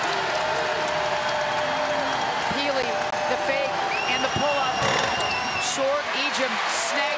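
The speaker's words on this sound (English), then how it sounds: "Crowd is up." Crowd noise in a basketball arena during a #4 Gonzaga vs #5 Utah game, a steady roar of about 6,000 fans with cheering, sneaker squeaks and bouncing under continuous commentary.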